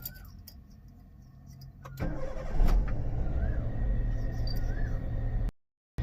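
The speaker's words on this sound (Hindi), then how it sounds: "इसीलिए मैं गाड़ी लेकर जा रहा हूँ" A car starting up with a few clicks and a rising engine note, then running and pulling away at a steady mid-pitched hum before the sound cuts out abruptly near the end.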